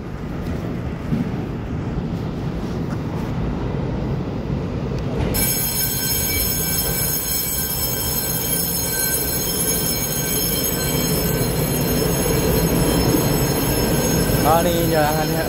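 Puyuma express tilting train (TEMU2000) pulling away from a Taiwanese station platform, a steady rolling rumble under a departure announcement, then a high electric whine rising and holding as the train accelerates.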